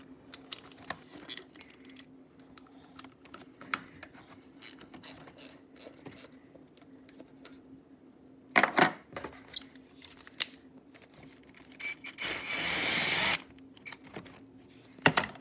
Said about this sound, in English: I'm just gonna break all these bolts loose with my little ratchet